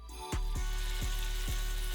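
Loud, steady sizzling of foie gras frying in a hot pan, releasing lots of fat, with a few soft stirring knocks at regular intervals.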